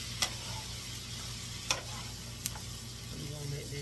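Frozen chicken sausages sizzling in a hot pan, a steady close hiss of frying broken by three sharp ticks of a utensil against the pan, with no one talking.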